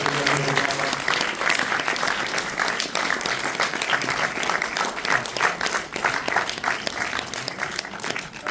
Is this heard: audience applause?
yes